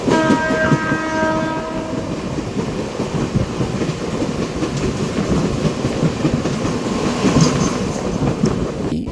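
A Kachiguda–Raichur MEMU passenger train pulls away from Gollapalli station: a horn sounds briefly at the start, then wheels rumble and clatter steadily on the rails, close and continuous.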